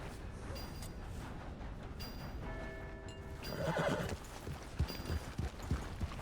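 A horse whinnies with a drawn-out neigh amid a noisy background in the video game Red Dead Redemption 2, followed by a few hoof clops near the end.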